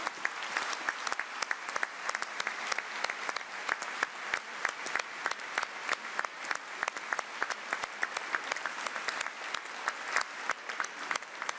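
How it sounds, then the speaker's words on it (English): Sustained applause from an audience at an EU leaders' gathering in Antwerp, dense, even clapping that fills the whole stretch at a steady level without pause. "And give them a round of applause."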